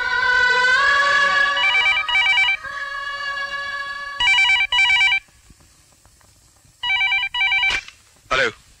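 A telephone in a Hindi film scene rings repeatedly in bright electronic bursts separated by short gaps, loud and close, with no voices.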